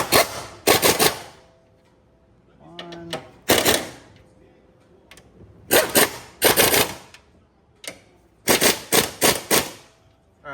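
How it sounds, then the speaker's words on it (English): Bolts on a car's strut bar being tightened during a coilover and suspension install, heard as several loud bursts of rapid mechanical ratcheting, close by, with quiet gaps and small clinks between them. "let's tighten down the strut bar and then we'll torque it down"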